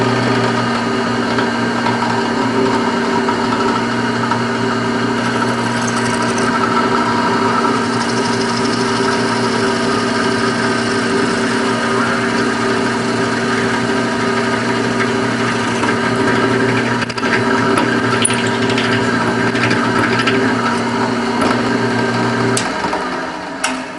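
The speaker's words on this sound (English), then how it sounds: "when I drill my second hole" A drill with a 1/4-inch bit bores a second pin hole through a knife handle for mosaic pins, giving a steady, close mechanical whir that runs unbroken and winds down at the very end.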